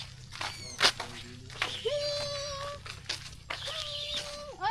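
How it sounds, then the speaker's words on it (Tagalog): A cat meows several times near Tuhian Beach at Macpac, its drawn-out, rising and falling cries loud and close, with faint footsteps and background rustle. "Ayun pusa."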